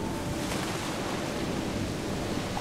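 Steady water ambience in the puzzle game Antichamber, a continuous rushing wash like surf or flowing water that holds at an even level throughout, with no voices.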